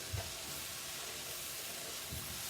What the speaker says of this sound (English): all of those are going to go right in our skillet. And I'm just going to give them a big stir.